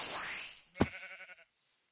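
A sheep in Minecraft with the Dragon Block C mod lets out a single short, wavering bleat, clear and close, after a fading whoosh.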